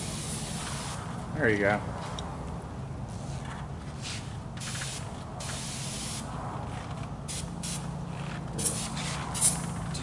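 Cleaner hisses from a spray bottle onto a private airplane in repeated short bursts, close by, while people talk briefly in between.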